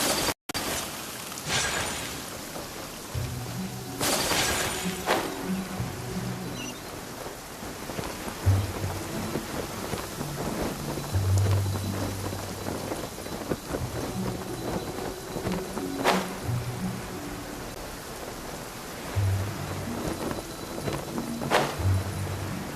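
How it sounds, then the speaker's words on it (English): Steady rainfall on surfaces fills a stormy scene in the video game Genshin Impact, with several deep thunder rumbles and cracks rolling through at intervals. "Let us find shelter from the rain."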